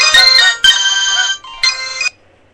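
A Hiphone I32 phone plays a short electronic ringtone, bright chiming notes in two bursts separated by a brief pause, clear and alone.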